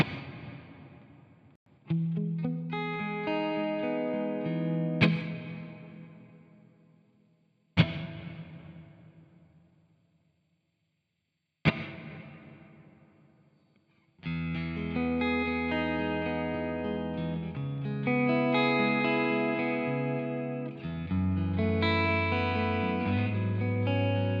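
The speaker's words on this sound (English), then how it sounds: "Let's, oh, delay and a reverb." Guitar played through AmpliTube 5 delay and reverb effects: struck chords and single notes ring out with long echoing tails that decay into near silence, then a sustained, layered passage swells loud and full to the end.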